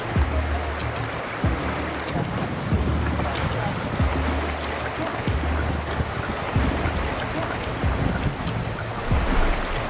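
Small boat riding across open water near Punta Cerveza in Peru, with a steady, loud roar of wind and water rushing past and low engine rumble throughout, plus a few faint voices in the background.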